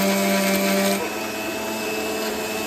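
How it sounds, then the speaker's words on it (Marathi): A mixer grinder blends chutney with salt and water, a loud continuous motor whine that drops slightly in pitch partway through and keeps running steadily to the end. "चला आता मिक्सरला वाटण्यासाठी घेते"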